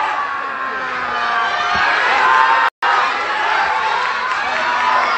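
A loud pro wrestling arena crowd roars and cheers for Katsuhiko Nakajima during his 2016 NOAH match against Takashi Sugiura, a dense sustained wall of shouting and whooping with a momentary dropout midway.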